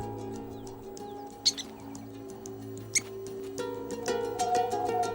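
A prairie dog gives a sharp alarm call, a few brief high chirps standing out near the start and middle over a background of sustained music.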